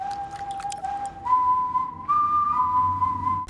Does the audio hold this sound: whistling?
yes